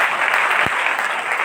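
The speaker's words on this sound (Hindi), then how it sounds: "क्या ताली बजाकर उसका धन्यवाद कर सकते हैं?" Church congregation clapping together in thanks during a Hindi sermon, a dense, steady wash of applause filling the whole moment, with a brief low thump partway through.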